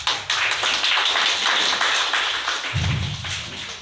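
A crowd at a ceremony claps steadily for Engineer Mannan Khan, producing dense, loud applause that runs continuously throughout, with a low thump rising near the end.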